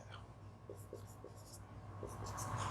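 Pen or marker writing chemistry notes on a board during an organic nomenclature lesson, a few faint scratchy strokes under low room noise with no talk.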